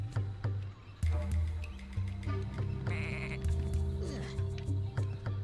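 Sheep in the video game Tak and the Power of Juju bleat repeatedly, several loud wavering calls close up over a looping low musical backdrop with scattered game clicks and thumps.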